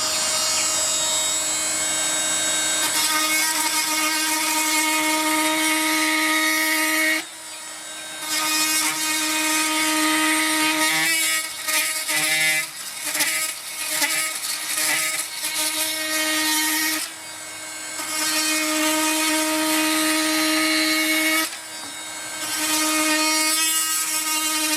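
Oscillating multi-tool fitted with a Starlock blade cutting a large piece of timber, a loud, high buzzing whine in long steady runs broken by brief pauses and choppier bursts as the blade bites the wood.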